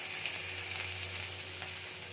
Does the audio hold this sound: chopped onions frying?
yes